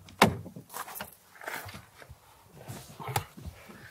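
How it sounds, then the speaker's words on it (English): Audi A4 Avant estate door clunking shut with a solid, heavy thud near the start, followed by faint cabin rustles and a second sharp knock later, close and fairly loud. "The door clunks shut with vault-like quality"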